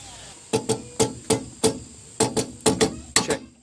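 Torque wrench set to 150 foot-pounds clicking while tightening a wheel bearing on a 2002 Nissan Maxima: a series of about ten sharp, close metallic clicks in an uneven rhythm.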